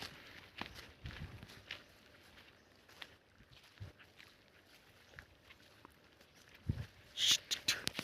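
Footsteps of a group climbing the Koilagudem hill on the way to a waterfall: faint, scattered crunching steps on rough ground, irregular and fairly close, growing louder and busier near the end.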